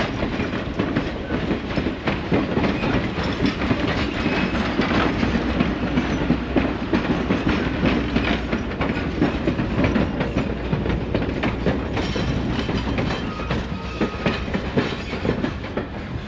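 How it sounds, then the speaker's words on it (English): A Strasburg Rail Road train in Lancaster County, Pennsylvania rolls steadily past on the rails, a continuous loud rumble with rhythmic clickety-clack of wheels, close by and without voices. "And there the train goes for a nice 45-minute ride through Lancaster County."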